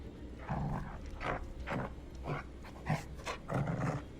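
A dog in the horror video game The Devil in Me gives a series of short, rough barks and panting bursts, fairly close and moderately loud, spaced irregularly over a few seconds.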